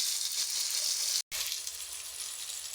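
Ginger and green chili paste hits hot oil in a pan for a Bengali pumpkin dish, a loud steady hiss of sizzling with a brief break midway, no voices.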